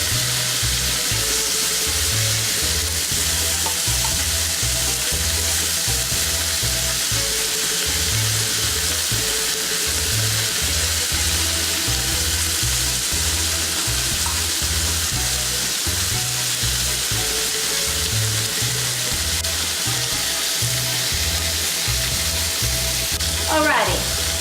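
Quail frying in a pan, a steady, continuous sizzle running throughout with faint stirring and kitchen clatter, no talking.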